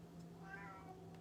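A domestic cat, agitated after a storm, lets out a faint drawn-out meow against a steady low hum, quiet and somewhat distant with no one speaking.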